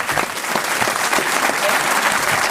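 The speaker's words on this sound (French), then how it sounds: "On applaudit encore Firmin Richard." Loud, dense audience applause at a film screening at the Alpe d'Huez festival, continuous crowd clapping with a few faint voices mixed in.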